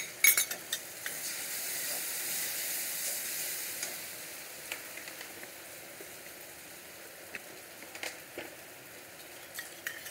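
Ground cashew paste sizzles and fries in a pan for a Bengali doi katla fish curry, a steady hiss with scattered scrapes and clinks of a spoon stirring, close and without talk.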